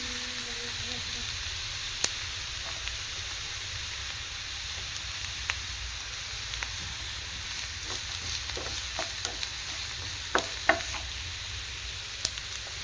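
Gentle continuous sizzle of vegetables frying in a pan for capsicum mezhukkuvaratti, with scattered light clicks and scrapes of a spoon stirring, close and steady.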